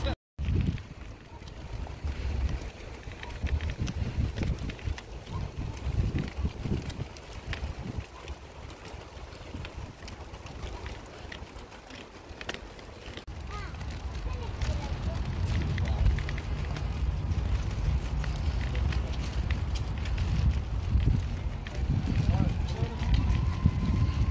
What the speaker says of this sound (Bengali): এই যে জাহাজ এইটাছে ছোট জাহাজ